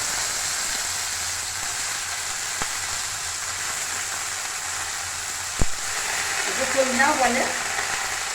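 Sajne (drumstick) flowers with peanuts, potato and cumin frying in a pan give a steady sizzle, with a brief clatter of stirring and a voice speaking near the end.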